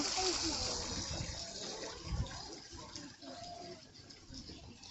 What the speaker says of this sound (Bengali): তো এখানে হচ্ছে ঝর্ণা